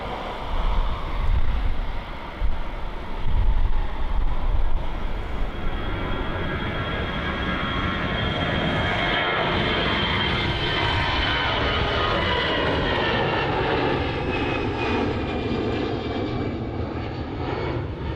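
A jet airliner departs Helsinki Airport, its engine roar loud and steady throughout with a broad rushing rumble, rising at first and then holding as the aircraft climbs away. No one speaks.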